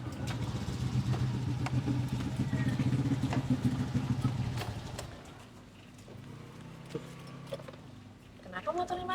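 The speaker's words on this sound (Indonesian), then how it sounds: "Bentar, Mbak, ada sesuatu nih sama motor saya." A motorcycle engine with a fault runs steadily and loudly for about five seconds, then drops to a quieter, uneven idle with scattered knocks and rattles.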